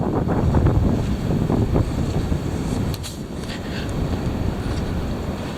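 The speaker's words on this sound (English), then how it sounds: "Now that's a hard wind." Heavy wind roars steadily and loudly across an exposed microphone, rumbling and buffeting without letup for several seconds, with no voices.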